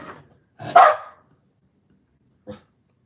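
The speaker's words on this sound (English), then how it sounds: "Not sure why they're barking." Two or three dogs bark indoors, one loud close bark after a short yip and a lone fainter bark a moment later, with silence between.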